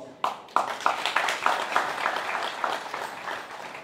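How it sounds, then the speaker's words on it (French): A modest audience claps at a French community social services ceremony. The applause is fairly faint and slightly distant, opening with a few separate claps before settling into a steady patter of many hands. "Ils méritent vos applaudissements encore et encore."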